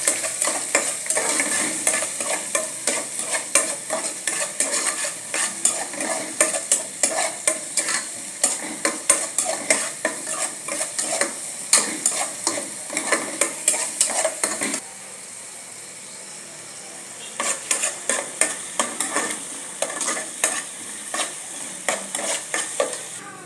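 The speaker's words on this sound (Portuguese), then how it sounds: "o óleo está esquentando, você coloca meia cebola picadinha" Half a chopped onion fries in hot oil in a pot, a continuous sizzle broken by frequent rhythmic scrapes and knocks of a utensil stirring against the metal. There is a short quieter pause near the middle.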